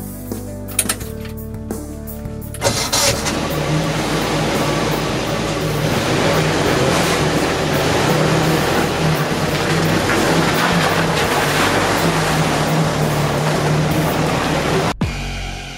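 UAZ off-road vehicle being started and driven off: a few clicks and a cranking burst, then a loud steady engine drone with road rumble that cuts off abruptly near the end.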